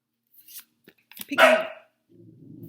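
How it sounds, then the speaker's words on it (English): Dogs bark in a short loud burst of several overlapping barks at close range, followed by a low rumbling noise, with no talk. "Those are my dogs acting up."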